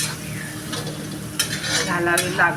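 Home-made red chili powder roasts in a pan, giving a soft sizzle with a few scraping stirs and light clinks of a spoon against the metal.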